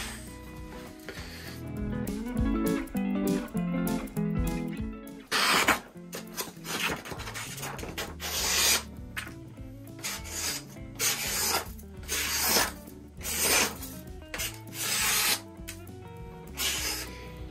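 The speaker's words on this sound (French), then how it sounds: "On va faire un petit test d'affûtage." A Darex jack plane blade being sharpened, rhythmic back-and-forth rasping strokes on a stone, loud and close, repeating steadily with brief pauses between passes.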